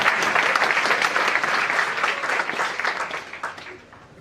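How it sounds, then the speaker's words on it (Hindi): An audience at a Hindi sermon by the riverside claps in sustained, dense applause that stays loud and then gradually thins toward the end. "ताली तो इतनी बज जाती है,"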